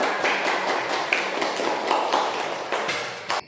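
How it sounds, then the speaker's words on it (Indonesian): A classroom of students applauding together, a dense, steady wash of many hands clapping that fills the room for several seconds with a few sharper individual claps standing out near the end. "Beri tepuk tangan yang meriah."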